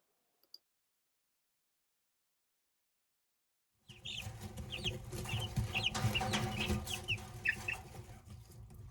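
Backyard chickens cluck and crow around a house in steady, overlapping bursts after several seconds of silence, moderately close with continuous farmyard chatter.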